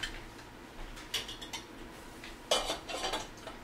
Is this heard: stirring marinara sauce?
yes